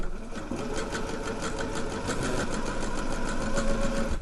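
A domestic sewing machine running steadily while doing a couple of back stitches on a dress waistband, a close, even mechanical whir with rapid needle ticking and no pauses.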